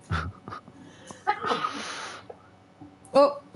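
A sharp sneeze bursts out among voices and breathy noises during a Fortnite match, with a second noisy burst and chatter following close behind.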